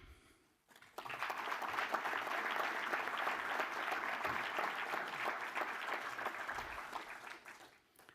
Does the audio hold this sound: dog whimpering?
no